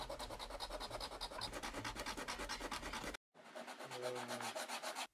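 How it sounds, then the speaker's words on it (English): The feet of a violin bridge being sanded against abrasive with rapid, regular back-and-forth rubbing strokes, close and fairly quiet, broken by one brief pause. "We start by trimming and then sanding the feet to fit the shape of the violin."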